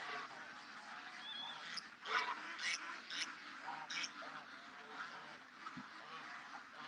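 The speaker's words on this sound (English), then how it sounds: "Oh, them short bus ducks." Ducks quacking outdoors on a morning, several calls in irregular bursts at moderate distance, with faint background noise between the calls.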